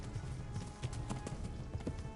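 Hooves clip-clop in a steady rhythm as a horse moves in the medieval game Kingdom Come Deliverance, fairly soft and blended with game music and ambient sound.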